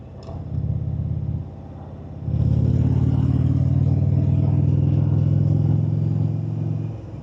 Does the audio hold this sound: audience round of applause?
no